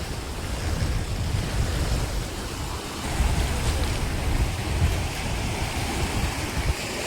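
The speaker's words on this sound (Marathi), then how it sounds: "आत्ता भरती चालू आहे." Sea waves surge in at high tide on the shore of Madh Island, Mumbai, a continuous loud wash of surf with rolling swells and wind buffeting the microphone throughout.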